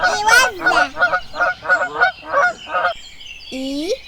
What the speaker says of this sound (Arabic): إوزة.